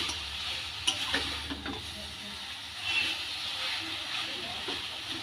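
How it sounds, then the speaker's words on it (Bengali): Chalta (elephant apple) pickle is stirred as it dries in a wok, giving a steady soft hiss of cooking with scattered scraping clicks from the spoon. "আরও দু থেকে তিন মিনিট এভাবে নাড়তে থাকবো"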